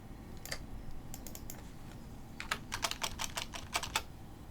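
Keys clack on a computer keyboard in sparse taps, then a quicker burst of close, crisp keystrokes, alone in a quiet room.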